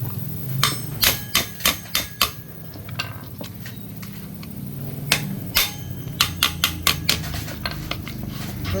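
Oversized rivets are hammered into the clutch damper of a Yamaha Sniper 150, with two bursts of rapid, sharp metallic blows in steady rhythm, close and loud, separated by a quieter stretch of shop noise.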